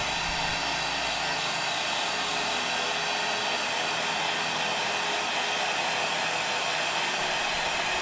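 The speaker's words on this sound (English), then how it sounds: "You can use a hairdryer or a heat gun for this step." A hairdryer or heat gun blows warm air over a vinyl skin on an Apple Magic Mouse, giving a loud, steady, close whooshing roar that holds unbroken throughout.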